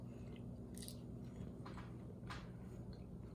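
Air-fried spicy Brussels sprouts are bitten and chewed close up: a couple of crisp crunches followed by quieter chewing, faint against a low steady background hum.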